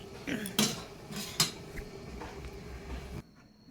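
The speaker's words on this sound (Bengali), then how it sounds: "সিদ্ধ হয়ে যাক, ঢেকে দিলাম" Metal cookware clattering as a lid goes onto a cooking pot of simmering food in a home kitchen, with a few sharp clinks and scrapes close by, then the sounds stop and the room goes quiet.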